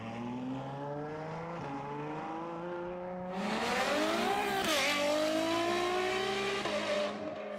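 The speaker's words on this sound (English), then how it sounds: "it turns an already aggressive V12 machine into something far louder and sharper" A Mansory-modified Ferrari 812 Stallone with a V12 engine revs up in rising, rasping sweeps that swell louder midway, a sharp aggressive roar close by with no talk.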